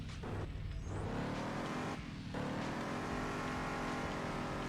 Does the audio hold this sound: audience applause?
no